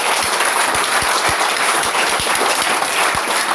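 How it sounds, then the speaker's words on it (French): Loud, continuous congregation applause at a church worship service, many hands clapping together with scattered sharper claps and low thuds recurring throughout. "Applaudissez, applaudissez, applaudissez."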